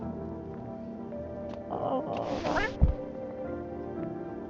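A cat meows in a Halloween horror video game, a couple of short, soft mews in the middle with a brief thump, set against quiet game ambience and a low background hum.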